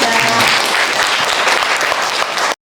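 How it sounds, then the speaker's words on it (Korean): Loud, close applause from a lecture audience, a dense burst of clapping lasting about two and a half seconds before cutting off abruptly. "본인에게 박수 한번 주세요"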